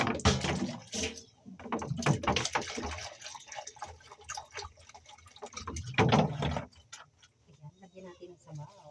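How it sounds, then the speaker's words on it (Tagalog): Water is poured into a pot of pork sinigang, a sour Filipino soup, giving a light splashing trickle with intermittent talk nearby. "Dadagdagan ko po ng konting tubig."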